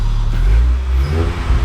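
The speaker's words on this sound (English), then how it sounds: "I wonder what happens if I rev it." A Honda engine with its supercharger removed revs up loudly and close, a deep rising drone that climbs sluggishly over a brief stretch, with no talking.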